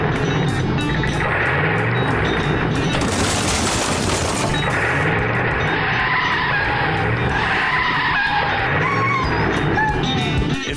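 Pete the Plumber's truck skids hard with loud tire screeches and rapid crashing bangs, followed by continuous engine roar and repeated squeals over about ten seconds.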